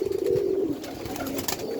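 Pigeons coo at their nests during the rainy season, a low throaty cooing up close with soft rustling behind it.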